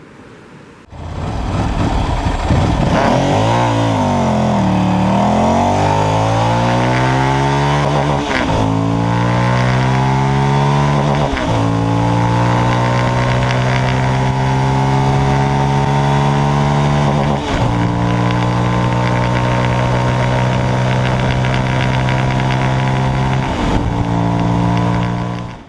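A Ducati 1000DS Multistrada motorcycle engine blips and revs several times, then settles into a loud, steady idle between throttle bursts, close up with no talk.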